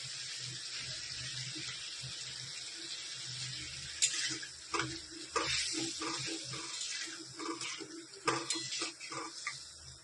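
Small-chopped tomatoes sauté with spices in a pan. A low, watery sizzle runs throughout, and from midway a series of stirring scrapes and clatters stands out over it.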